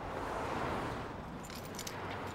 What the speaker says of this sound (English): Give me the keys to the lorry.